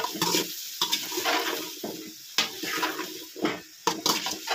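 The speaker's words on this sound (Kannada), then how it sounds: "5 ನಿಮಿಷ ಎಣ್ಣೆಲಿ ಚೆನ್ನಾಗಿ ಫ್ರೈ ಆಗಬೇಕು." Masala for pumpkin gojju frying in oil, a bubbling sizzle broken up by repeated scraping stirs and spatula knocks against the pan, close and fairly loud, with no speech.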